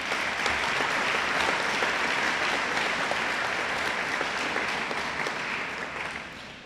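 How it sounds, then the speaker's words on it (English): A school awards presentation crowd applauds award recipients with dense, sustained clapping that fills the room. It holds steady and loud, then starts to fade slightly toward the end. "Could you please give these students a round of applause?"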